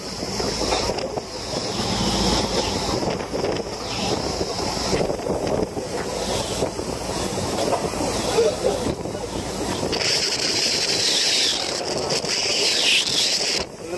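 Heavy seas batter a boat during Typhoon Kabayan, a continuous loud roar of wind buffeting the microphone and crashing water, with a surge of rushing spray near the end; someone talks briefly over it.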